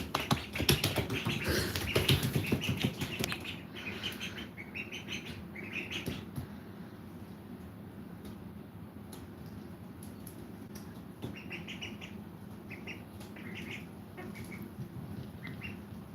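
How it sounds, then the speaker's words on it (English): Ducklings splash and flap in a water bowl, making soft wet patters and wing flutters mixed with faint peeping chirps, quiet and close. "We're just chilling with the ducks today, this morning."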